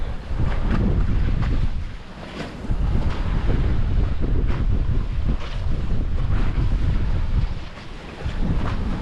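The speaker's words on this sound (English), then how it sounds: "Very, very changeable, the wind at the moment. Blowing all over the place." Strong, gusting wind roars across the microphone aboard a small sailboat just off the wind, with surging and dipping bursts of buffeting and faint water wash underneath, no voices.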